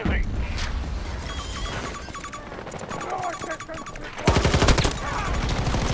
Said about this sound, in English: I'm taking so much fire.